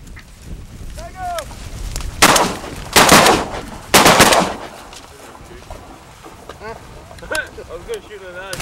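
Three loud, sharp gunshots ring out close by during a hunt near water, spaced about a second apart, with duck or goose calls honking before and after them.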